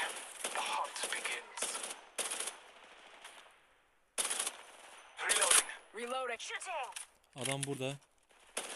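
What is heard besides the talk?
gunfire in video game Apex Legends Mobile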